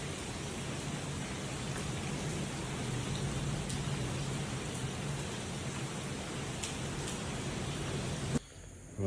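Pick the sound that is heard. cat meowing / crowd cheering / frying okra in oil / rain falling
rain falling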